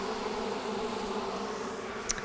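Honeybees hum in a continuous steady drone during a fall hive inspection, close and moderately quiet, with one brief sharp tick near the end.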